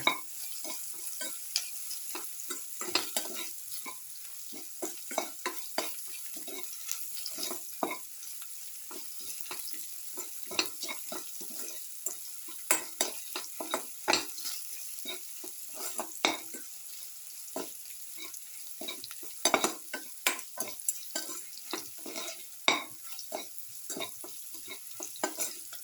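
Okra with garlic and tomato sautés in a hot pan, a quiet sizzle under a long run of frequent, irregular spatula scrapes and taps that continues steadily throughout.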